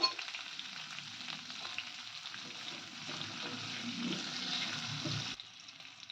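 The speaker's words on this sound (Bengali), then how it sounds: "এগুলো হালকা ভাজা হয়ে গেছে" Steady sizzling of diced capsicum and jackfruit frying in a pan, with occasional stirring, cutting off abruptly near the end.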